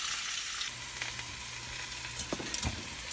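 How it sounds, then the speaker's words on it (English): Chicken sizzles steadily in a frying pan, a close, continuous hiss with scattered pops and crackles and occasional stirring sounds. "Now I'm sure you can hear the sizzle."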